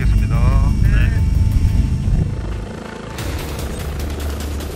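A doctor air ambulance helicopter takes off, its broadband rotor and engine roar loud and steady, easing somewhat partway through, while people talk briefly over it.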